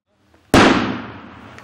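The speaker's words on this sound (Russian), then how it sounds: "прям над тобой взрыв-пакет взрывается" A flash-bang training charge bursts overhead on an obstacle course, one sharp, loud blast that decays into a long rumbling tail.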